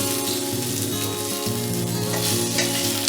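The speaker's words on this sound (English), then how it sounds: "fry it for another 5 minutes. My ingredients are well fried." Onion, cashew nuts, ginger, garlic and tomato fry in a pan for paneer butter masala, a steady, continuous sizzle close by with faint stirring.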